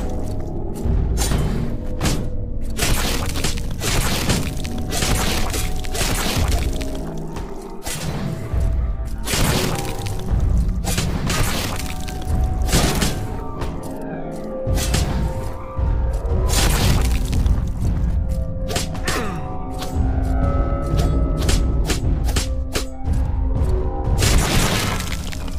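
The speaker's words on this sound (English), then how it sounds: "added a Tri-Vulcan cannon gun by Limworks." A Tri-Vulcan cannon fires in a Unity-made video game, delivering loud, rapid, repeated blasts with crashing impacts and booms that keep coming in dense bursts from start to finish.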